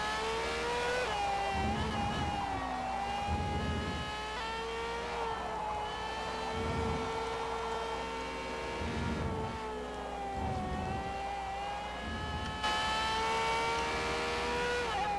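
Race cars in a Forza game, a Formula-style race at the 2013 Italian GP, scream along at high revs with engine notes rising and falling through gear shifts, close and continuous, with no talking.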